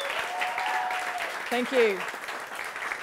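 Audience applause fills a live event in Australia, steady clapping throughout while a single voice speaks briefly over it.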